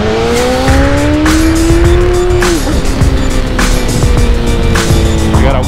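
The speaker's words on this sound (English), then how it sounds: "I'll give you guys a wheelie here real quick before I cut it off." A motorcycle engine revs hard during a wheelie, loud and close, its strained tone climbing, dipping, then holding steady under continuous rumbling road and wind noise.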